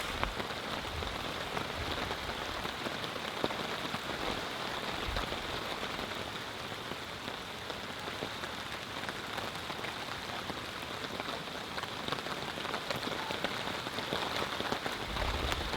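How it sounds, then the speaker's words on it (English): Heavy rain pours steadily onto a campsite during a thunderstorm, a dense unbroken hiss of drops hitting surfaces close by, with no voices. "This rain is pretty heavy."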